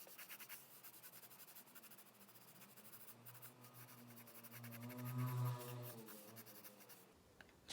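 A pencil sketches an apple outline in light, loose strokes, a soft, continuous scratching that rises slightly midway, close and quiet with no voices.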